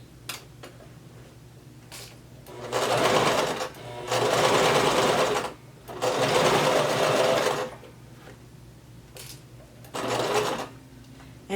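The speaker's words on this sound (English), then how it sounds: "We are going to continue sewing all the way up until we get to this pin." A home sewing machine stitches a seam on a gathered maxi skirt, running in four steady whirring bursts of a few seconds each with short pauses and small clicks between, close and clear with no talking.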